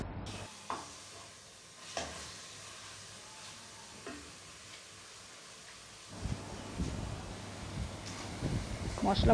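Spice masala cooks in ghee in a pan, with faint clinks at first, then a soft sizzle and scraping stirring that grows busier toward the end, all quiet and close.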